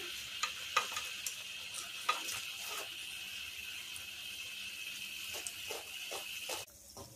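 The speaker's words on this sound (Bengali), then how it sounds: "এইভাবে করে আমি সব খাজাগুলো ভেজে নেব।" Khasta khaja, flour pastries, frying in hot oil, a steady bubbling sizzle with scattered crisp clicks and scraping taps from stirring, fairly close and alone without any voices.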